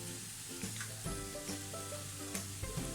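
Curry leaves sizzling as they sauté in hot oil, a steady close crackling hiss with small pops and a faint low tonal hum underneath, fairly quiet and unbroken by speech.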